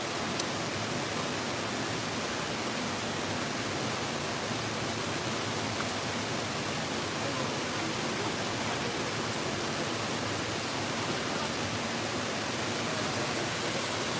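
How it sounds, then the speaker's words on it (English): Rome's Trevi Fountain at dusk, its water splashing in a constant, even rush of noise with no breaks or voices. "Trevi Fountain."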